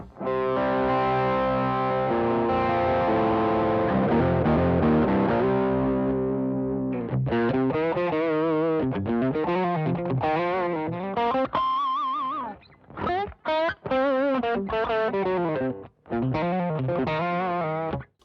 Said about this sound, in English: Now if I add the overdrive, The gain's at halfway, tone's at halfway, volume's at halfway.